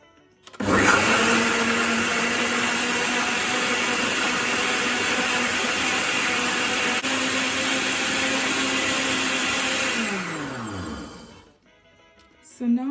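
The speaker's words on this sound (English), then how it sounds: "I want the pineapple to be blended very smoothly. So I'm going to go for eye blend." A kitchen blender whirs at high speed through pineapple for crepe batter, loud and steady for about ten seconds before winding down and cutting off.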